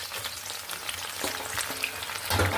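Onion frying in hot oil in a wok sizzles with a dense, steady crackle, close and even, briefly swelling louder near the end.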